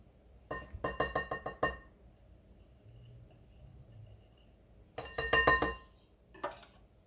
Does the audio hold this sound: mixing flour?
yes